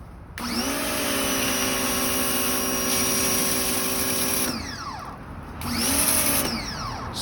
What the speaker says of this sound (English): Adjust the nozzle so the water pressure is set to the lightest jet stream.